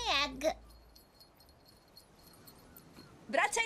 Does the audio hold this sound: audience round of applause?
no